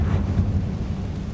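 The Confringo blast spell in Hogwarts Legacy gives a deep rumbling boom that fills the short moment, low and steady without a sharp attack.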